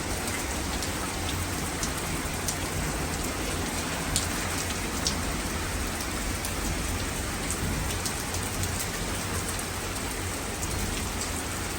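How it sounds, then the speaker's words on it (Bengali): Heavy rain falls steadily in London, a dense even hiss of drops on surfaces with a few sharper patters and no clear thunderclap; no one speaks. "অনেক বৃষ্টি হচ্ছে এবং বজ্রপাতের আওয়াজ শোনা যাচ্ছে"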